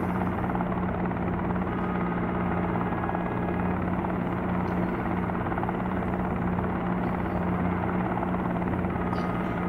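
Helicopter engine in a flight simulator game, a loud continuous droning rotor and turbine hum holding steady throughout with no pauses.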